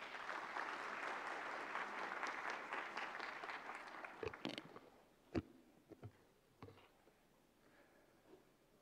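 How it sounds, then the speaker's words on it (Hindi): Audience applause at the close of a health conference session, steady and dense for about four seconds, then thinning into scattered claps and a few sharp knocks as the hall settles. "और एक बार पुनः तालियों के साथ स्वागत डॉक्टर बसंत गर्ग जी का"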